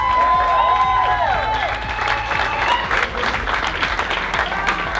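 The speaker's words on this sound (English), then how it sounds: "Give them all a big round of applause." An audience at a Latino awards ceremony breaks into loud applause with some cheering and whoops. The clapping is dense and close, and a tonal sound briefly rises and falls underneath near the start.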